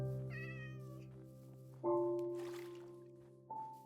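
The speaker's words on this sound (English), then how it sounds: "Is that a cat?" Cat meows from a video game with a water-based build, a couple of close, clear calls with harmonic pitch bends, heard alone over a steady game background hum.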